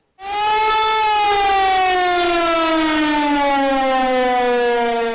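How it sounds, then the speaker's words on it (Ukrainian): A loud, steady wailing alarm siren at a railway transport vocational school with a slowly falling pitch, sounding continuously and alone for several seconds. "Гучна сирена змушує учнів вищого професійного училища залізничного транспорту вибігти на подвір'я."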